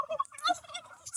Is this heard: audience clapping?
no